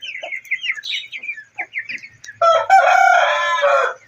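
Aseel chickens cluck and crow loudly up close while feeding, starting with scattered short calls and then breaking into a sustained, dense crowing burst. No one talks.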